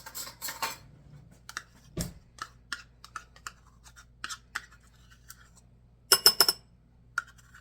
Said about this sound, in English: let me get a spoon or something to get that out of there